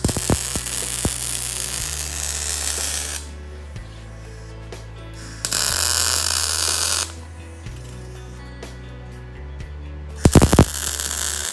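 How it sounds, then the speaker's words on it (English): Welding on a transmission pedestal for a 1955 Chevy with a TH400 swap, heard as a loud steady crackling hiss in long bursts with pauses between them. A low hum runs underneath, and a few sharp clicks come near the end. "Let's finish welding this bad boy up"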